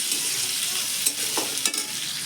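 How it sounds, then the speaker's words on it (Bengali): Lightly crushed garlic, onion and chilli fry in a pan, producing a steady bright hiss of oil with a few soft spatula scrapes toward the end, close and without talk. "রসুনটা আর লঙ্কাটা লাল লাল করে ভাজা হয়েছে"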